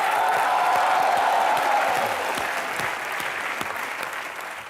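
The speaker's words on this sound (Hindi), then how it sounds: "एक बार मिथुन दा के लिए जोरदार तालियां।" A studio audience at a comedy television show breaks into loud, sustained clapping that fills the room, then gradually tapers off slightly while continuing.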